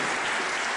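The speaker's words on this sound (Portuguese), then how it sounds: "Você pode aplaudir o Senhor Jesus." A church congregation claps in dense, loud, continuous applause, a short steady burst of many hands with no pauses.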